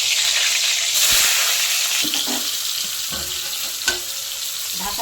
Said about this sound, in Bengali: তেল গরম হয়ে গেছে, নুন হলুদ মাখানো পটলগুলো ভেজে নেব